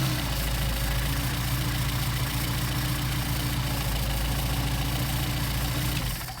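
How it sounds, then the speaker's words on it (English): Mercedes 190SL engine with Solex carburetors idling after a hot start in cold weather, a steady, close, throbbing idle with an even pulse throughout. "Turn them off, do a hot start."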